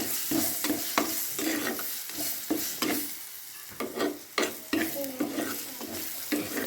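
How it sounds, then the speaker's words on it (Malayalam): Chopped tomato fried in a pan while making a simple egg dish is stirred with repeated close scraping strokes over a steady sizzle, the stirring rhythmic and busy throughout. "അപ്പോൾ ഒരു തക്കാളി ഇട്ടിട്ട് നന്നായിട്ട് മിക്സ് ചെയ്യാം."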